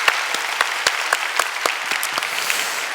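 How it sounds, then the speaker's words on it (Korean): A church congregation claps in encouragement during a Sunday service: steady, fairly loud applause from many hands throughout, with individual sharp claps standing out. "다시 한번 격려의 박수 해드리도록 하겠습니다"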